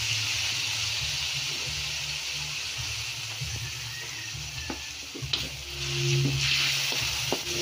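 Pork adobo sizzles and fries in a pan with Silver Swan soy sauce, a steady close hiss broken by a few stirring clatters and a louder surge of sizzling toward the end; no talking.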